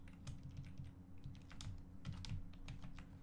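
Keys clatter on a computer keyboard as a line of JavaScript code is typed, a quick run of close, fairly quiet clicks over a steady low hum, with no talking.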